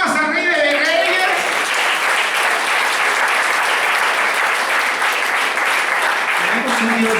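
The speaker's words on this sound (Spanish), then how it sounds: "Dale palmas al Rey de Reyes." Church congregation applauding during a service, a loud, continuous roll of many hands clapping that fills the room from start to finish, with a voice briefly audible at the beginning and end.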